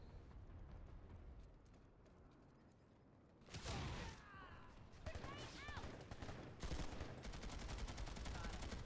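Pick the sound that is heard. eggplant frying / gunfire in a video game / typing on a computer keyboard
gunfire in a video game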